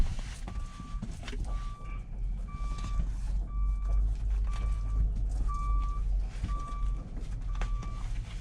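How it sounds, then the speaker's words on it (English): A truck's reversing alarm beeps in a steady, evenly spaced series of about eight tones, moderately loud over a low engine rumble and outdoor background noise. "He's got one of them stupid, annoying reversing horns."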